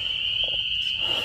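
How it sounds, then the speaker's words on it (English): A steady, high-pitched trill of frogs near a swamp drones continuously in the background, with faint low rumbling beneath it and no talking. "You can hear the frogs in the background."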